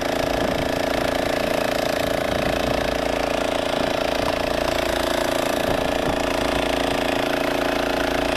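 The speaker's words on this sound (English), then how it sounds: "I turn this on, and that kind of sprays around in the tank" Tank rinse nozzle spraying around the inside of a closed farm sprayer tank, a continuous loud rushing hiss and drumming of water over a pump drone, steady throughout.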